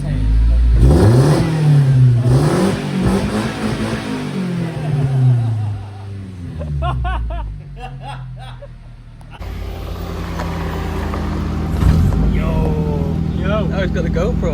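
Suzuki Grand Vitara engine revving indoors inside a building, rising and falling in loud surges that fill the clip while people talk over it.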